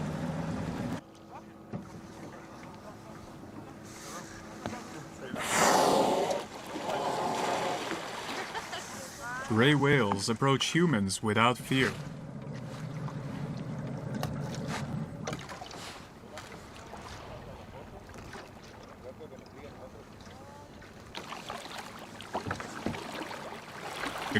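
A boat rocks on open sea during a gray whale watching trip, with water sloshing, wind buffeting the microphone and a brief louder splash and rumble midway, under a narrator's steady voice.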